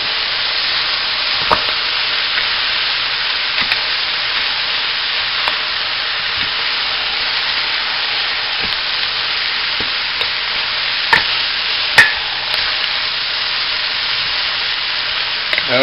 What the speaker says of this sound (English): Good sear. It's searing all the,